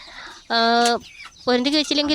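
Native country hens cluck near the microphone in two short bursts of throaty, rising calls, with brief quiet between them and no talk.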